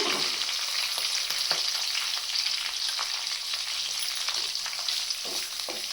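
Onion sizzles and fries in a hot pan with steady crackling hiss and occasional stirring clatter, close and continuous with no talking.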